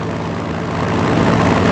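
Engine drone from a tactical bomber aircraft in Strategic Mind: Blitzkrieg, a loud, steady propeller roar that builds slightly and holds throughout.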